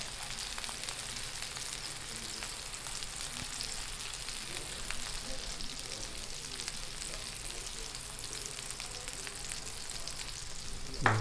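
A tomahawk ribeye sears in butter in a hot pan, giving a steady, dense sizzle and crackle that holds evenly for the whole stretch, with a brief louder pop right at the end.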